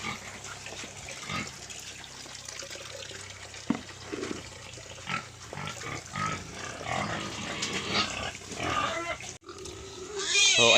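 A native pig eats pineapple peels, with soft chewing and wet snuffling noises close by over low background sounds.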